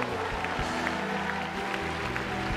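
Applause from a large congregation at a Benny Hinn church crusade in Manaus, Brazil, a broad steady clatter of many hands, somewhat distant and reverberant, with a low hum beneath.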